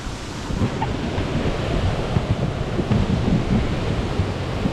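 A waterfall at a prospecting spot in the North Carolina highlands gives a constant broadband rush and roar, steady and fairly loud throughout, with no voices heard.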